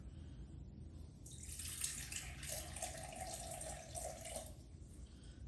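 200 grams of warm water pours steadily into a container for Neapolitan pizza dough for a few seconds, a bright rushing splash that starts, holds and then stops, over a low background hum.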